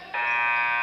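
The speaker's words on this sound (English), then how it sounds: "And there's your buzzer." A basketball game buzzer ending the third quarter of a varsity boys' high school game, a single loud steady electronic tone starting abruptly and holding.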